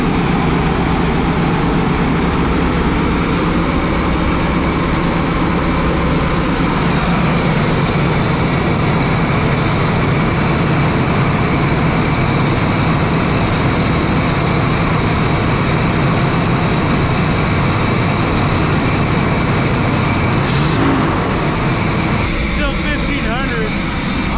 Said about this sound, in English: So we're gonna try and spray some carb cleaner in there and see if we can't get it idling a bit more normal